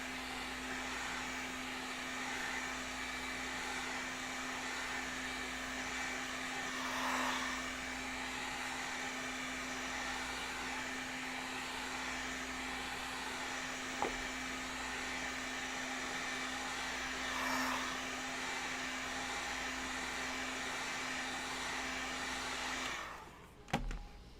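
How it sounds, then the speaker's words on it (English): A heat gun blows steadily on craft foam for a helmet build, giving a continuous even whirring roar with a constant hum underneath that cuts off abruptly near the end. "When I'm heating the foam, I do both sides."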